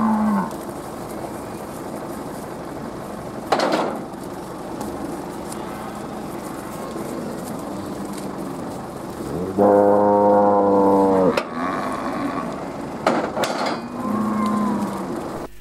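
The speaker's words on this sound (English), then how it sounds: "I think these cows thought they might come with me. They're nosy bloody things." Cattle in a farm paddock low and moo nearby, several drawn-out calls standing out over a steady outdoor background, with one loud, long bellow in the middle.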